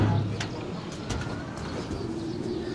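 Racing pigeons coo at the loft as birds arrive during a north derby race, with low, soft throaty calls near the start over a steady outdoor background hum.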